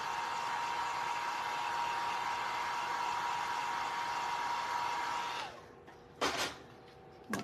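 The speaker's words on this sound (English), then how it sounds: "Let me give it a quick zap with the heat tool." A heat tool blows hot air onto a craft pumpkin for a fall gourd decoration, giving a steady, loud rushing whoosh for about five seconds before cutting off, then a couple of short knocks.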